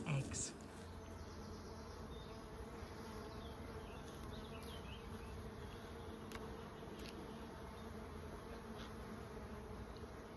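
Honeybees hum during a hive inspection at an apiary, a faint, continuous buzzing swarm sound with a brief louder burst at the start and occasional light handling noises.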